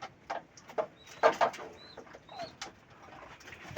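Pigeons coo softly on a farm, a series of short, faint, scattered calls close by in an otherwise quiet space.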